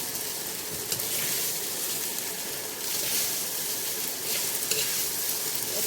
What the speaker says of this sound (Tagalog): Patuyuin na lang natin to kasi ayoko yung basa-basa na fried rice.